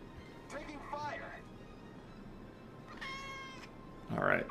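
A cat meows a few times close by, short tonal calls spread across a few seconds, with a louder, rougher cry at the end, heard over a low background of game sound.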